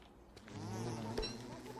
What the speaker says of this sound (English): There is a fucking bee